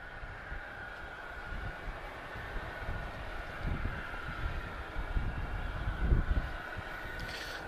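Distant Swift Air airliner landing at Madeira Airport, a steady broadband engine roar with a tonal whine that swells toward the end as thrust reverse builds, heard from afar without talk.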